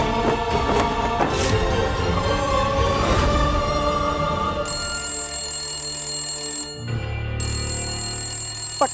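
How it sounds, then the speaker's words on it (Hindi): A telephone rings inside a home in a Hindi TV drama, a loud repeated electronic trill with a bright sustained tone laid over background music, without speech. "देख तो कौन फोन बजा रहा है अभी"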